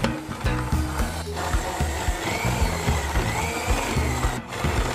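Electric mixer beating powdered sugar into carrot cupcake frosting, a steady close motor whir with rhythmic churning pulses running throughout, no talking.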